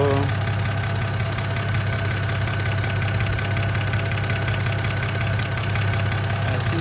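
A BMW E90 engine idles steadily with a fine, rapid lifter tick running through it, heard close and continuous with no talking.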